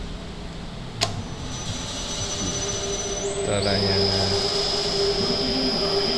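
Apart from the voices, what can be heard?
milling machine motor running on an inverter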